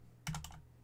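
Typing on a computer keyboard produces a quick cluster of a few close, soft key clicks followed by one more tap, all with no talking.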